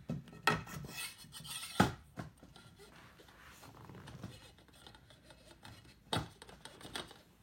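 A mast section with a square plug slides into a sail's mast sleeve, a close rasping rub of fabric and tube with a few louder scrapes and knocks among quieter rustling, no talking.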